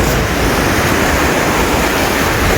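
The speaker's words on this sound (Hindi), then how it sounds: "ये पानी माशाल्लाह पानी ज़ोर शोर से है, बहुत ज़्यादा दरियानी में है दरिया सिंध अपनी मौज और मस्ती में" The Indus River in flood in Punjab rushes strongly, a steady loud broadband roar of churning water with wind buffeting, continuous throughout with no talking.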